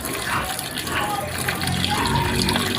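Steady rushing water pouring continuously into a cooking pot, a close, full gushing sound with no voices.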